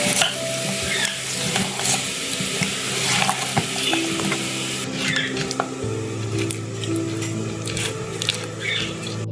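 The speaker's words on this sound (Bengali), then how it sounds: "এবার এর মধ্যে আমি খাজাগুলো দিয়ে দেবো। দিয়ে এগুলো ভালোভাবে মিশিয়ে নেব।" Fried khaja sweets being mixed in a pan with syrup, giving steady close scraping and stirring with a hissing sizzle, loud and continuous throughout, with no talking.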